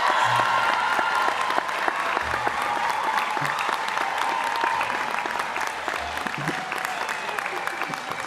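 A graduation ceremony audience applauds steadily, a dense continuous patter of many hands filling the hall at even loudness throughout.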